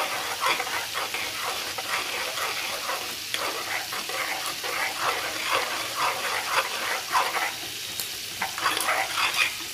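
Vegetable upma being stirred in a pan, with steady scraping and soft sizzling that run continuously and fairly close, with no voices over it.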